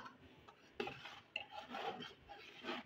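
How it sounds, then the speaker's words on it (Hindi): A spoon stirs roasted vermicelli in a cooking pot for sheer khurma, making soft, uneven scraping and rasping strokes at close range, some sharper clinks against the pot, and no speech. "शामिल करने के बाद आपने चम्मच को फौरन चलाना है"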